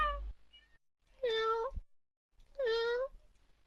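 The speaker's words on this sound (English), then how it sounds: "Is that a cat?" Two drawn-out cat meows, about a second apart, each loud and close with a clear tonal wail, separated by near-silence.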